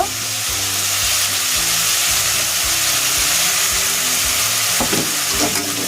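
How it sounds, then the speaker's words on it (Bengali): Onion and garlic paste frying in hot oil for a rohu fish poppy-seed curry, a steady loud sizzle throughout with a few stirring clinks near the end. "পেঁয়াজ আর রসুন ভালো করে একটু ভেজে নেবে"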